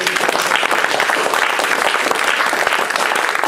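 A church congregation applauds to acclaim Jesus during a New Year 2025 service, a steady, loud wash of clapping hands filling the room throughout.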